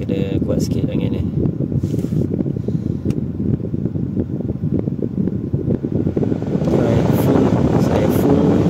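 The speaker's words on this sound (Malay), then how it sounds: "Ini kipas full paling kuat." A fan blows at its strongest setting while an air-conditioning compressor runs, giving a loud, steady rushing roar with muffled talk over it. The noise grows fuller and brighter near the end.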